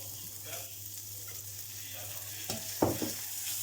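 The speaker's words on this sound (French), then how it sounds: "Et là, on va déglacer avec un trait de vinaigre balsamique." Peppercorns and onions sizzle in a pan, deglazed with a splash of balsamic vinegar for a pepper sauce to go with duck breast. A steady hiss runs throughout, with a brief louder clatter of stirring near the end.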